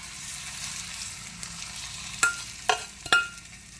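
Hot tempering oil poured over asafoetida in a pickle preparation hisses and crackles in a few sharp bursts over a faint background sizzle, with no talking.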